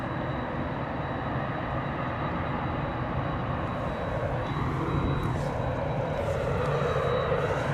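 A Ryanair Boeing 737 climbs away from London Stansted after takeoff and banks right, its engines a steady broad roar that holds loud and unbroken throughout, no voices.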